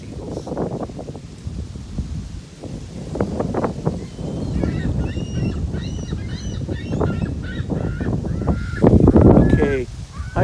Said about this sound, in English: You can see we're surrounded by seagulls.